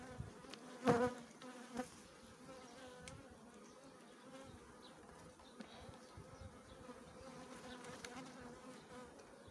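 Honey bees buzz around hive frames in a continuous low drone, close and fairly quiet, with a couple of brief knocks or bumps near the start; no talking.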